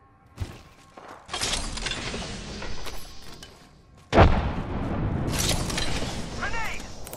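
A grenade explodes in an Apex Legends match with a sudden loud crack and crash, followed by sustained noisy debris and gunfire. An earlier blast sounds before it, and voices talk at times.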